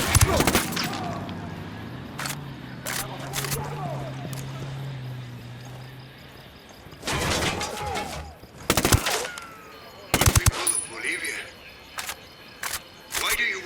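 Machine gun fire in Ghost Recon Wildlands comes in loud, sharp bursts and single cracks spread through the clip, with a voice talking in the gaps between shots.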